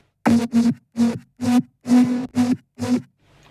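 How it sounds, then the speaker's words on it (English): A Serum synth drop lead with its full plugin chain plays seven punchy, evenly spaced stabs, loud and up front with no talking, then drops away to faint noise. "the drop lead with all the plugins sounds like this."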